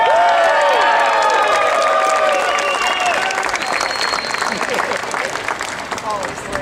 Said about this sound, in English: I'll say it again, it's usually met with applause.